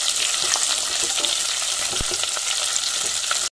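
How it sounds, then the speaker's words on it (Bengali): Onion and capsicum fry on high heat in a pan, giving a loud, dense, continuous sizzle with occasional stirring taps, close up and free of talk, cutting off abruptly. "পেঁয়াজ অ্যাড করে দিচ্ছি, ক্যাপসিকাম অ্যাড করে দিলাম। এবারে এটাকে হাই হিটে এক থেকে দেড় মিনিট মতন একটুখানি ফ্রাই করে নেব।"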